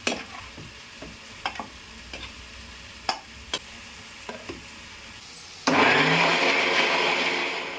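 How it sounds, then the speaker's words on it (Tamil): A mixie jar grinder purees cooked onion and tomato for channa masala gravy, whirring steady and loud after several sharp clicks and taps. "ஸ்டவ் ஆஃப் பண்ணி இறக்கி வச்சுட்டு சூடான பிறகு மிக்ஸி ஜாரில் அரைச்சிக்கலாம்."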